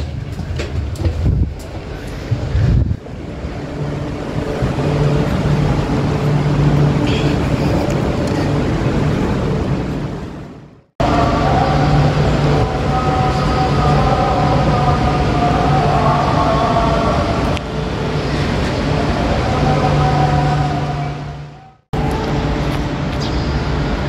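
Dining car of the Jakarta-Bandung high-speed train at speed: a steady, loud rumble and hum of the carriage in motion, with a couple of sharp cutoffs, and no talk.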